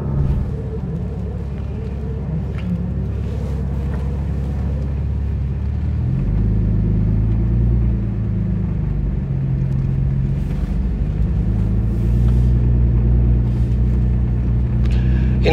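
Heard from inside while riding, an RWB Porsche 997 engine gives a steady, loud low rumble throughout, deepening and shifting gear-like about midway as the car keeps moving, with no talking.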